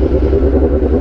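A BMW S1000R motorcycle engine holds loud and close against its rev limiter, a dense buzzing roar that stays steady for a brief moment with quick, rapid stutters.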